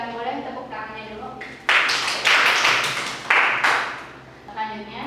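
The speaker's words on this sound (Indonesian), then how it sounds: "Boleh tepuk tangannya dulu." Classroom applause during a microteaching lesson: a sudden burst of many hands clapping that rises, holds for a few seconds and then fades. Brief talk comes before and after it.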